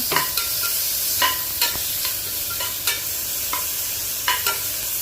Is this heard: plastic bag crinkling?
no